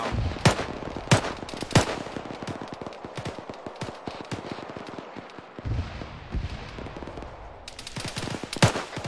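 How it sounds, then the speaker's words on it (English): Rapid automatic gunfire in ArmA 3 combat, sharp close bursts and single shots cracking over a steady background of distant firing, with a loud cluster of shots near the end. "Still guys shooting down."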